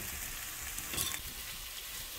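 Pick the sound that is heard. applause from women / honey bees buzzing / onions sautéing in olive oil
onions sautéing in olive oil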